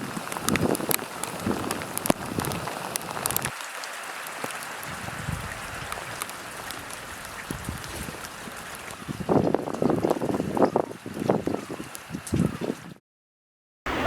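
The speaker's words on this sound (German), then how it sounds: "Es hat angefangen zu regnen" Rain falling outdoors on an Arctic trip, a steady broadband patter mixed with wind noise on the microphone, fairly faint, with a denser burst of drops near the end before the sound cuts out.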